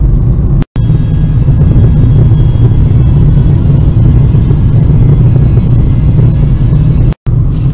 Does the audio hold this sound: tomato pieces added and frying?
no